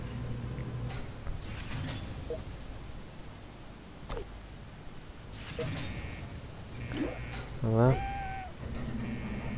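A cat in the video game Fallout Shelter meows once with a rising, wavering tone, amid background game sounds and faint mechanical noises.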